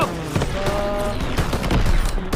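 In the World War II shooter Call of Duty WW2, dense gunfire rattles in rapid overlapping bursts and booms, loud and close, with shouted voices mixed in.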